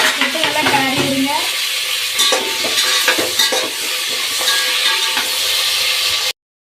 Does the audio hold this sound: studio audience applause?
no